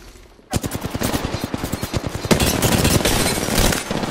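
Rapid automatic gunfire in the Apex Legends battle royale on the Olympus map, loud bursts of repeated shots starting abruptly after a quiet moment and continuing densely with overlapping game effects.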